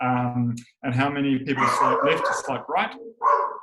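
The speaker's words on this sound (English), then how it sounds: "Sorry, that's my dog in the background." A pet dog barks and yips in a home office, the short barks mixed in beneath a person talking steadily close to the microphone.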